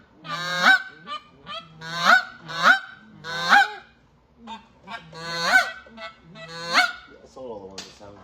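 A turkey call worked fast and closed down produces a series of sharp, loud honking clucks in short bursts with brief gaps between them, close and alone without talk.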